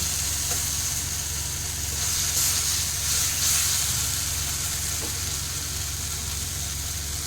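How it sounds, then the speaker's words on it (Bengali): Tomato gravy for egg curry frying in a pan, a continuous near sizzle with steam hiss that swells slightly at moments as water goes in; no one speaks. "এবার আমি খানিকটা জল ঢেলে দিচ্ছি।"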